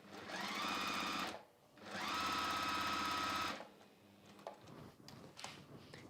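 Sewing machine stitching down the edge of a fabric pouch with a flexi frame, running in two steady bursts of about a second each with a short pause between, then stopping into quiet handling noise.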